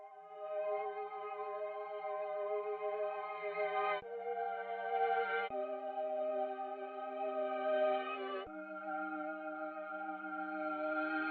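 A sustained synth tone that swells backward and cuts off abruptly several times, giving a reversed, sucking-in sound with shifting pitch.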